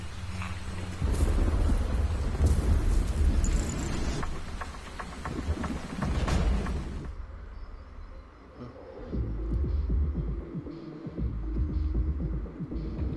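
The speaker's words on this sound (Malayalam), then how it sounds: "ഭയങ്കര മഴയുള്ള സാറേ" Heavy rain with rumbling thunder in a film scene, a loud dense downpour with deep throbbing low rumble that eases after midway into steadier patter.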